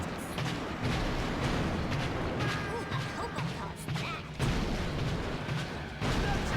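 Shooting in Crash Tag Team Racing sounds as a steady barrage of rapid gunfire blasts and crashing impacts, loud and continuous over busy game noise, with a voice talking underneath.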